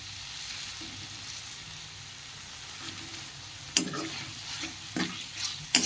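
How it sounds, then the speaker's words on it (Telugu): Tomatoes frying in hot oil in a kadai, a steady soft sizzle with a few sharper clinks of a spoon against the pan near the end, no talking. "కడాయి వేడెక్కిన తర్వాత ఇందులో ఆయిల్ పోసుకోవాలి. టమాటోస్ మంచిగా మగ్గినాయి."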